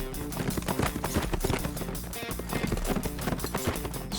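Several horses gallop in a race, their rapid, rhythmic hoofbeats pounding close and loud, layered over driving background music.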